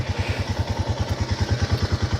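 A Jeep Wrangler Rubicon engine idles close by with a steady, rhythmic low thrum, even pulses throughout and no talking.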